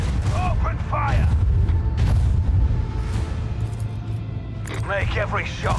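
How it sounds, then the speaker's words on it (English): Heavy macro cannon fire in a Warhammer 40k space battle, deep rumbling booms and mechanical thuds rolling continuously beneath a spoken voice at the start and end. "Macro cannon, open fire!"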